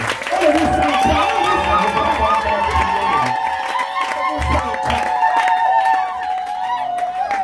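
A church congregation cheers and shouts in praise to the Lord, a loud sustained crowd roar with mixed voices and applause filling the whole span, a sung or shouted tone running over it.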